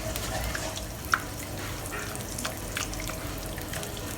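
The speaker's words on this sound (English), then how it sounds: "We're going to fry the eggs now." Six eggs hit hot oil in a pan for fried rice, giving a steady, close sizzle and crackle throughout, with a brief sharp tick near the start and no speech.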